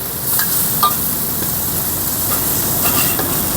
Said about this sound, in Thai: ผัดเส้นไว้ก่อนนะครับ แล้วก็ตามด้วยกุ้งนะครับ